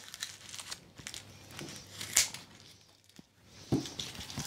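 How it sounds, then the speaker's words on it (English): Dry papery skin being peeled off a bulb by hand, with close, soft crinkling and crackling in short irregular bursts, two sharper rustles standing out, and no talking. "take off all the papery, the dry papery skin"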